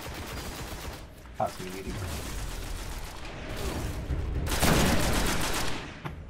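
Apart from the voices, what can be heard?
gunfire from a weapon in the video game Destiny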